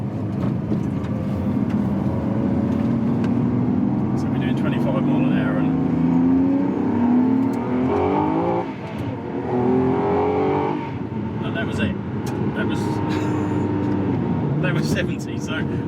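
A car engine pulls and accelerates on an open road, its steady drone rising and falling in pitch as gears change, with someone talking over it throughout.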